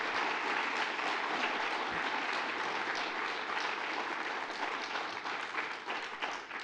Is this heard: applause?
yes